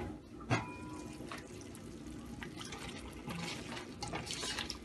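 About half a cup of water is poured into a biryani pot with spices, making a soft, faint trickle and splash over a low kitchen background, with a small clink near the start.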